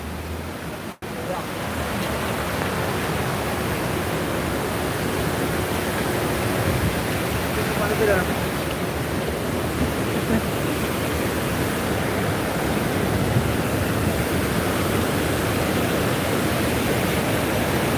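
Floodwater from the Hope River rushes after Hurricane Melissa, a loud, dense, continuous roar that holds steady throughout, close by.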